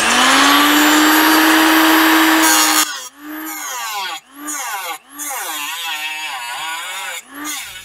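A power tool cuts through brazing on a car sill, a loud steady high whine for about three seconds, then short repeated grinding bursts with brief pauses between them.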